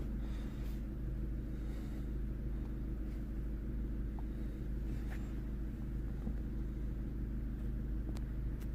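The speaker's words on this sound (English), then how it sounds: "the car is running apparently normal" Vauxhall Opel Astra J 1.4 petrol engine idling with a stored P00B3 fault code, a steady low rumble close by with no voices.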